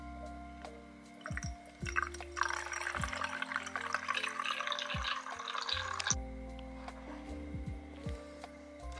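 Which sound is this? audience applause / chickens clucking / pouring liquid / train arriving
pouring liquid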